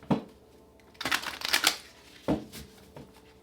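A deck of cards is shuffled close by in three quick riffling bursts separated by short pauses.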